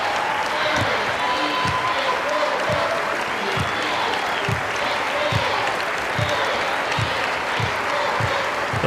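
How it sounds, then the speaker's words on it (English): Basketball fans in an arena standing and applauding the top-ranked team after a game, a dense roar of clapping and crowd noise with a steady rhythm of thumps underneath and a commentator talking over it. "the fans remaining here at the XL Center will come to their feet and applaud the #1 team in the country"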